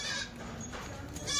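Kathiawari goat bleating at a livestock sale, a few short rough bleats over a busy, noisy background, with a brighter call rising at the end.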